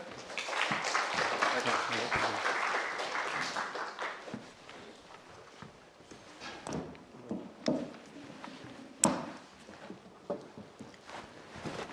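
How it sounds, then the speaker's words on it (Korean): University lecture audience applauds to welcome a guest lecturer: a few seconds of group clapping that fades out, followed by scattered thumps, shuffling and room noise. "박수로 맞아주시죠."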